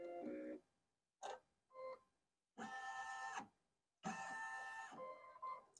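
A Brother NQ1700E embroidery machine stitches lettering in short mechanical bursts, a close, buzzing whir that starts and stops several times with silent gaps between runs.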